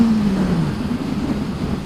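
Kawasaki W800 motorcycle on a test ride with two people aboard, engine note sliding down as it shifts or eases off, then a steady rumble with wind noise, no voices.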